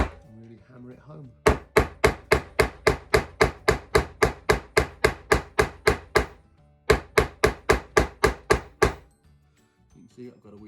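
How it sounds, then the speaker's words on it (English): Rapid, steady taps of a small plastic-handled hammer seating a fret into a guitar neck: a run of about fourteen sharp knocks, a brief pause, then another burst of about eight, loud and close. "You can see I've got a wee plastic handled hammer."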